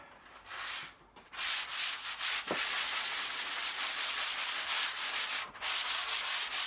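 Pole sander scraping across a ceiling, a steady faint rasping rub with brief pauses as the sanding pad is repositioned and resumes its back-and-forth strokes.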